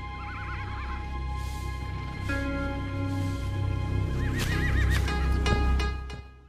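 An old horse neighs and whinnies several times in quick wavering bursts, close and fairly loud, with hoof clops and a low background rumble throughout.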